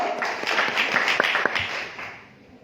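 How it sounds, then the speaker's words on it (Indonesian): An audience at a meeting claps, a dense burst of hands with a few crisp individual claps standing out, fading away toward the end. "Tepuk tangan dulu buat Bapak Ibu."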